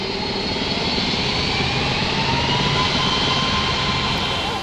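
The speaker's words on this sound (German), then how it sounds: "Der Sound der 3 Triebwerke, das ist Musik in den Ohren der Piloten." The three jet engines of a McDonnell Douglas MD-11 airliner at Frankfurt Airport give a loud, steady, close roar that fills the whole clip with no talk.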